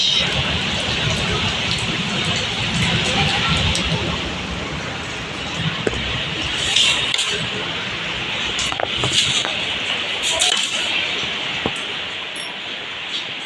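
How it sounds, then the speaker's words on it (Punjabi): Steady rainfall hisses throughout, with drops pattering on surfaces and a few sharper taps nearby; a voice speaks briefly over the downpour. "ਦੇਖੋ ਜੀ ਬਾਰਿਸ਼"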